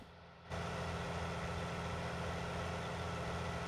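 A tractor engine in Farming Simulator 19 runs steadily after starting up, a continuous low droning rumble, close and unbroken, with no voices.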